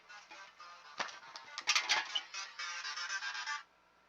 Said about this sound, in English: Yes, I have Megalovania as my ringtone.